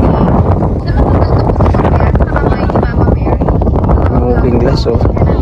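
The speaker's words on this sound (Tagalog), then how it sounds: "Grabing sarap ng hangin." Strong wind buffets the microphone in a constant low roar at Montemaria Shrine, Batangas City, with a voice barely audible beneath the rumble.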